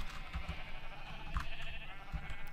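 Sheep in a pen in Minecraft give several short bleats scattered over a steady background hum, moderately loud, with no speech.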